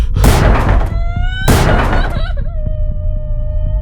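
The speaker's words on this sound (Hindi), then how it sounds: "अचानक उसने बेडरूम के दरवाजे पर एक जोरों की दस्तक सुनी।" Two heavy, booming knocks strike a bedroom door in a dramatized horror scene. Each loud thud is followed by ringing, sustained tones that fade out.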